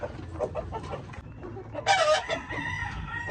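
Heritage pullets on a farm cluck and fuss in a short burst of close, overlapping poultry calls, with one louder, brighter call rising above the rest near the end.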